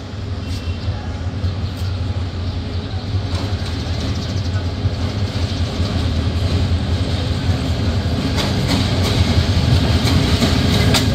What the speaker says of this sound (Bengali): এই মুহূর্তে সিলেট রেলওয়ে স্টেশনের 1 নম্বর প্ল্যাটফর্মে প্রবেশ করছে ঢাকা থেকে ছেড়ে আসা ট্রেন নম্বর 739 উপবন এক্সপ্রেস